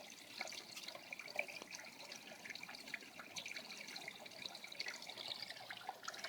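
Water drips and trickles steadily into a koi pond feature with a small spinning ball, a soft continuous splashing with scattered brighter drops, close but quiet, with no voices.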